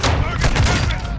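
Loud, continuous gunfire from several weapons opening up together in a shooter game on veteran difficulty, as a short dense burst that fills the whole moment, with voices mixed in.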